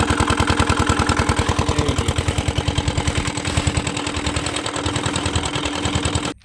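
Boat engine idling steadily as the boat pulls close in the Sundarbans jungle waterways, a loud close rhythmic chugging throb that holds through and cuts off abruptly at the end.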